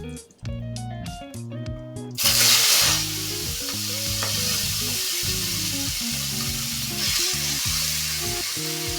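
Water spinach greens tipped into hot tempered oil burst into a loud, continuous sizzle that swells as the leaves hit the pan, then settles into steady frying hiss; a rhythmic background music bed plays throughout.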